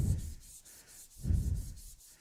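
Wood is sanded by hand with 180 grit sandpaper, giving two slow, rhythmic rubbing strokes with a soft, close scratchy swish and no talking.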